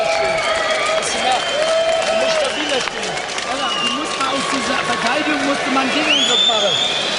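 Boxing arena crowd of 14,000 cheering and applauding, a steady dense roar with clapping and shouts throughout, while a voice speaks over the noise.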